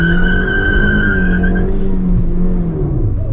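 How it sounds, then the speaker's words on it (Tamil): A 2021 Maruti Suzuki S-Cross holds a loud, sustained engine drone during a launch revved to about 5000 RPM, with a whining tone sliding steadily downward, near and continuous with no talk. "அண்ட் அகெயின் லான்ச் பண்ணுவோம். ரிவிங் up to 5000 RPM here we go."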